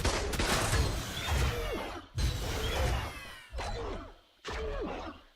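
Turrets inside an Ark base fire repeated heavy bursts, four loud volleys separated by short pauses, with a crackling, groaning creature in the mix.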